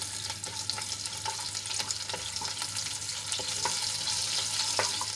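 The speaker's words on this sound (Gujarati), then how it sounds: "એક કાપેલું ઝીણું મરચું એડ કરીશું અને થોડીવાર માટે આપણે એને સાંતળી લઈશું" Cumin, sesame seeds, chili flakes and a finely chopped green chili sautéing in hot oil in a pan: a continuous bright sizzle close by, punctuated by light stirring clicks, with no talking.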